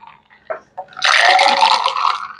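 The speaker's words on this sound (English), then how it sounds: "I'm just going to pour it one last time" A chilled Vesper cocktail pours from a shaker into a glass, with a few small clinks before a steady, close splashing stream.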